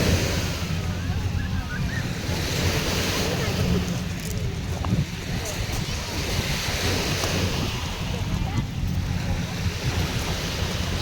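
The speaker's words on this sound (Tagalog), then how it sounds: "Napakalakas yung alon ngayon." Strong waves surging against the shore at Manila Bay, mixed with gusting wind buffeting the microphone, a steady loud roar that continues without a break and sits under background talk.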